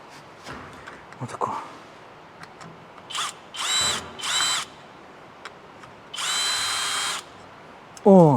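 A power drill unscrews a screw from delicate plastic in short whirring bursts of about a second each, the last rising in pitch, close and loud with quiet pauses between.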